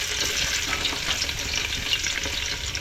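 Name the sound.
garlic frying in oil for chicken curry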